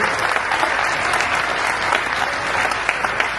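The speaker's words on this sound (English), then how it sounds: "You feel free to applaud them" A crowded awards banquet audience at a motorsport event applauds steadily, a dense wash of many hands clapping at moderate loudness with no voices standing out.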